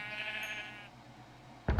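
A sheep in the Minecraft video game bleats in a wavering, drawn-out tone during animal breeding, followed by a brief loud thump near the end.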